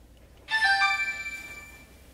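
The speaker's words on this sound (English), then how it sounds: "your phone going off" A mobile phone ringtone starts abruptly after a short quiet moment, playing a bright melodic chime with ringing tones that fade over about a second and a half, close by and alone.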